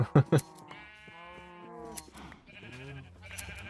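Sheep in Minecraft, penned in a tiny enclosure, bleat in a few wavering, nasal calls that run under a voice talking.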